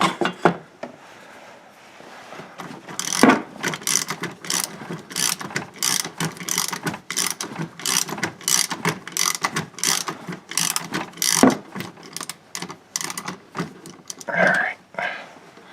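A hand ratchet works a transmission filler bolt loose beneath a 2011–2015 Chevrolet Volt, giving a long run of rapid, close clicking strokes in uneven bursts with short pauses, no talking.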